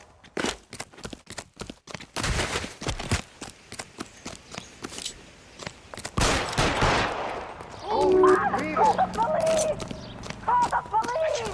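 Gunfire in the video game L.A. Noire: a rapid burst of sharp shots, some in quick clusters, ringing out, followed by agitated voices and shouting over the tail of the exchange.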